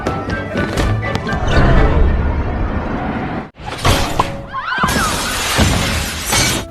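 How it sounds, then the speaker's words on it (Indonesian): A basketball hoop shatters in a film scene with a loud crashing burst, a brief dip, then a second bright, sustained spray of breaking debris, with no talking. "mengakibatkan ringnya pun hancur."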